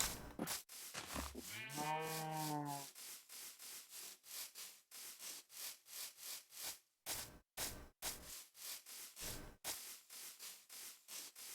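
In a Minecraft-like video game, a sheep gives one clear wavering bleat near the start, followed by a steady run of soft rhythmic rustling or footstep-like taps, with no voices.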